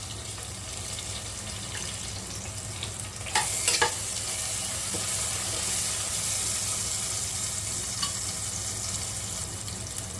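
Tomatoes, bay leaves and whole spices frying with onion in a pan, a steady close sizzle with a brief louder burst of crackling and stirring partway through.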